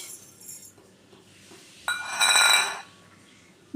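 A spoon clinks against a glass or steel container while mustard seeds are scooped for a paste in a Bengali kitchen, with a bright ringing clink in the middle and a few softer taps around it.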